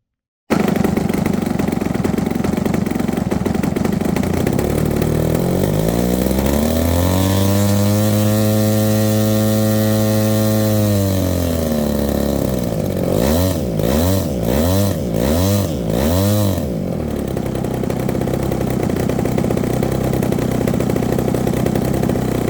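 Model airplane engine on a Blackhorse FW190 during a ground run, a loud continuous buzzing drone that rises sharply in pitch, holds at high revs, then dips and surges in several quick throttle blips before settling back to a steady idle.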